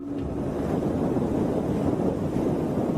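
Strong wind roars across a microphone on a windy night in Spain, a dense, constant rush with low buffeting and no other sounds.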